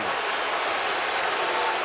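College basketball arena crowd at a Kansas–Colorado game roaring and jeering after a no-call, a loud, dense wash of noise with no break across the short burst.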